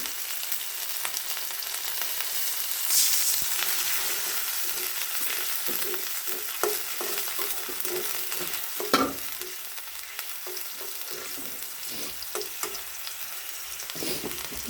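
Ground spice paste of ginger, garlic, cumin and coriander with a splash of water, sizzling steadily in the pan under repeated spoon stirring and scraping, with a brief louder burst partway through and no voices.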